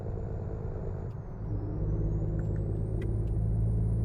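Air brakes on a truck trailer in American Truck Simulator, a steady low engine rumble with brief hissing bursts of released air over several seconds, no voices.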